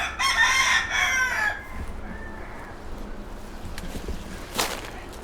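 A rooster crows loudly and nearby among Key West chickens, one long strained call followed by quieter clucks, scattered rustling and a single sharp snap against low outdoor ambience.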